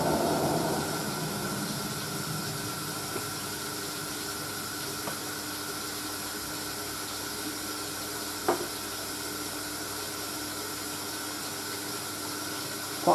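A Hoover A3060 Electronic 1100 washing machine on its second rinse: a steady, quiet hiss of water and a low pump hum, with a couple of faint clicks and a soft knock near the end.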